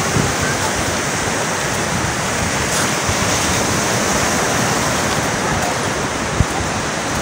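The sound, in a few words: flooded stream rushing water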